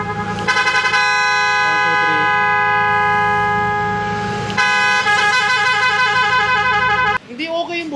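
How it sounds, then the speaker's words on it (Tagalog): A newly fitted horn on a Honda Civic FD blares loudly in two long, sustained honks, one right after the other, followed by a brief voice. "Busina mo."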